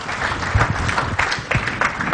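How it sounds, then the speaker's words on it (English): A conference audience applauds a keynote speaker at an additive manufacturing conference. Individual claps stand out within a brief, moderately loud burst of crowd clapping. "Can we have a round of applause for Professor David?"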